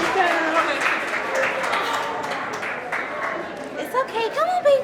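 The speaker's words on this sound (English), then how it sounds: "give each other a round of applause for the tremendous work that had happened that day" Animal shelter staff clap and cheer for one another after moving the last dog out, a moderate round of applause mixed with chatter, with voices growing more prominent toward the end.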